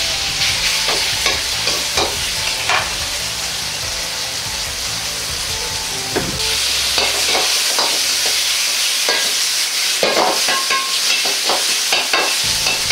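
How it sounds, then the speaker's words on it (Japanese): Pork stir-frying in oil in a pot, a loud continuous sizzle with scraping, stirring clatters of a utensil throughout, no voices over it. "豚肉を炒めます。"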